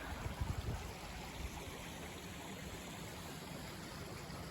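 Creek in a wooded metro park with small waterfalls, a steady broadband rush of flowing water throughout, a few low thumps near the start, no voices.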